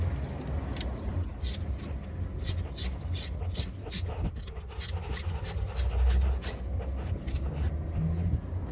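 Brake caliper bolts on a Citroen C1 being tightened with a ratchet, a rapid run of repeated close clicking strokes over a steady low background hum.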